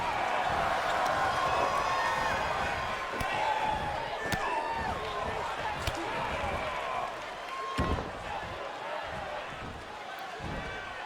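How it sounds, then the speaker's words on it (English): A dense, roaring crowd at a pro wrestling event cheers continuously, with sharp slams and thuds cutting through the noise at irregular moments. "The crowd's getting into it."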